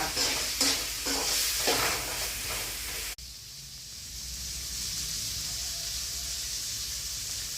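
Potato pieces frying with chilli, coriander and masala powders give a close crackling sizzle with stirring scrapes, then after a sudden cut a softer, steady hiss of frying continues.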